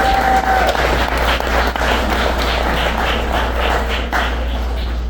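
An audience at a charity event with volunteers and sponsors claps in a loud, steady round of applause that continues for several seconds, with a low constant hum beneath.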